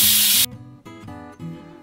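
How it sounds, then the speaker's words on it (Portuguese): A pressure cooker vents a loud, sharp hiss of steam for about half a second, then cuts off to leave a lower rumbling hum. "desligue o fogo e deixe sair a pressão."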